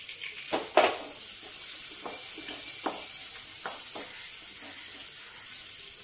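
Onion sizzling and frying in hot oil with curry leaves in a pan, a steady crackling hiss with a few sharper pops and stirring clatters near the start, close and alone.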